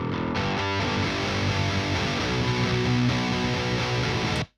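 Heavily distorted electric guitar played through the Bogren Digital BH4 amp simulator plugin, a dense, loud, continuous chugging riff that cuts off abruptly at the end.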